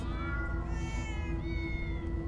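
Cats meowing in Minecraft: Story Mode, a few long drawn-out overlapping meows over a steady game music bed, with no talking.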